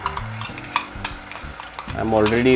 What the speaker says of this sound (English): I'll put the flame low and I'll add in the masala.